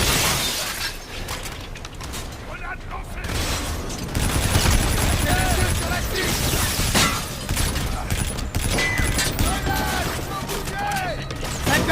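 Dense, continuous gunfire and shattering impacts during a ground assault in Call of Duty: Infinite Warfare, a loud chaotic barrage with shouted voices mixed in throughout.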